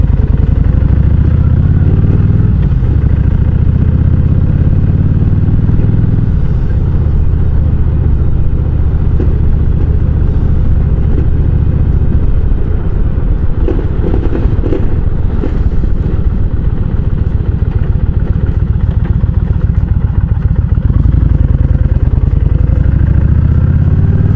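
A motorcycle rides through city streets, its engine rumbling loud and steady throughout with rising and falling throttle and some clattering, close to the rider and with no talking.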